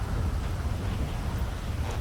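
Steady, heavy rain hisses through a thunderstorm in Grand Theft Auto V, dense and loud throughout, with low thunder rumbling underneath.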